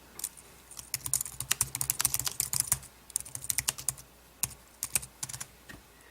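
Rapid typing on a Logitech K760 wireless solar keyboard, close up and clear, with irregular bursts of key clicks and short pauses, no voices.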